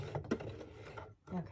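A domestic sewing machine running in reverse for a couple of stitches while sewing a neck pillow, short mechanical whirring bursts with a brief pause, heard close up under and between people talking.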